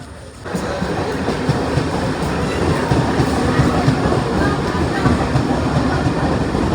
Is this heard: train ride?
yes